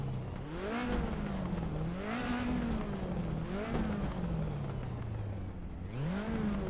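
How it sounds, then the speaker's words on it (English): A Toyota Celica ST185 rally car in Assetto Corsa, its engine revving up and down in repeated rising and falling sweeps, loud and close with a raspy, stripped-out tone. "Gonna listen to the engine."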